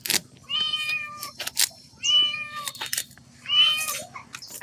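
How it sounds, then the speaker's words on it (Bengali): A pet cat meows repeatedly at a large pomfret fish being prepared, with four or five drawn-out, fairly close meows in an uneven rhythm and no talk. "মাছটা দেখে আমার পোষা বিড়ালটাও যেন মাছটা খাওয়ার জন্য লাফালাফি শুরু করে দিয়েছে"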